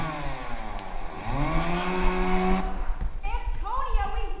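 A chainsaw in a horror-themed killer game revs loudly with a rising, whining engine pitch. It cuts off abruptly partway through, and a voice follows.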